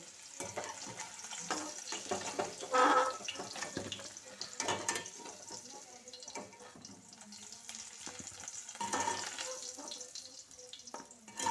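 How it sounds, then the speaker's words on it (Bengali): Fried potato and cauliflower pieces are lifted out of hot oil in a kitchen, with a steady soft sizzle beneath scattered clinks and scraping of a slotted spoon against the pan. "এবার আলু ও ফুলকপিটা তেল থেকে ভালো করে ছেঁকে তুলে নিচ্ছি"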